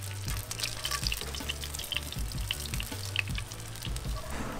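Fish sizzles steadily in a hot pan for a Chick-fil-A style fry with pickle juice, a continuous crackling hiss with a low rumbling hum underneath and no talk.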